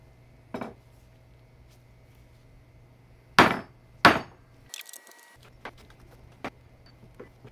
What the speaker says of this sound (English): So now I take a piece of hardwood and a bigger metal hammer, and then it goes in slowly.